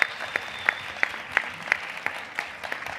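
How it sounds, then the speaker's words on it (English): Applause from an audience after a film screening at a Q&A: a thin, fairly regular patter of claps, steady and moderately close, with no voices over it. "another round of applause, please"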